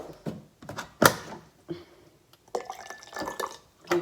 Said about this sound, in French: Là j'ai fait un peu trop chauffer, donc je vais rajouter de l'eau froide.